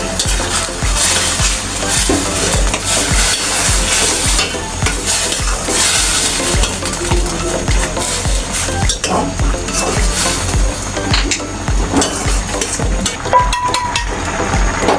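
Milk and cornflour batter stirred in a pan, a continuous loud scraping and sizzling churn with clinking of utensil against cookware throughout.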